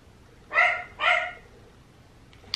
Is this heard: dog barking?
yes